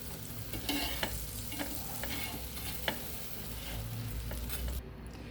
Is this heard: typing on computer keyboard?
no